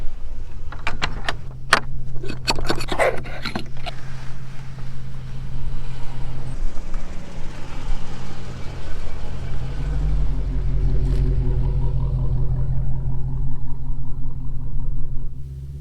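A stock-exhaust Dodge Charger SRT rumbles loudly and steadily close by, with sharp clicks and clatter early on, then a deeper, heavier drone building in the second half.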